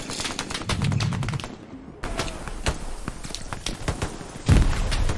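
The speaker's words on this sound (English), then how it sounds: "they're shooting from behind us, though" Gunfire in the World War II shooter game Hell Let Loose, with bursts of rapid shots and sharp single cracks, some near and loud, some more distant, plus a short quiet gap.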